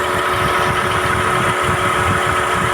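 A car engine idles steadily with its AC compressor running, giving a continuous, even hum and whir under the hood, heard close up with no talking.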